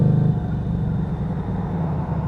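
A Lexmoto Vendetta 250cc motorcycle idles at about 1500 RPM with a steady, low, rumbling engine note. The tone holds even and loud from start to finish, with no revving.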